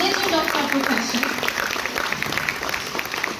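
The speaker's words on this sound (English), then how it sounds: "please give a huge round of applause for both of a legend of our profession" An audience claps for two honoured figures at a physiotherapy conference, moderately loud and sustained, with an announcer's voice running over the first part.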